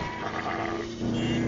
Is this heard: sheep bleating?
yes